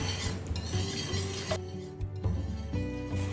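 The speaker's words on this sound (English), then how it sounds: "Now you just want to add your beurre meunier and then whisk vigorously" A whisk works beurre manié vigorously into a thyme onion gravy in a pan. Close, busy scraping and stirring rattles continue throughout, with no talking.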